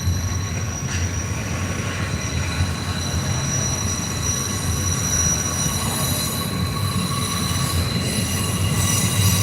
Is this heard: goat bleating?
no